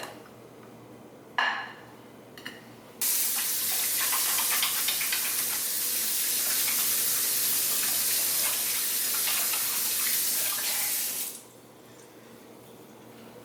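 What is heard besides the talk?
washing hands under a running tap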